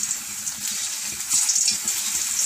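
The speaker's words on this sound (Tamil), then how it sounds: "ஆயில் காஞ்சிருச்சு, இப்போ நம்ம சிப்ஸ் எல்லாம் போட்டுக்கலாம்." Potato chip slices dropped into hot oil on a stove, a dense close fizz and bubble of frying that swells partway through.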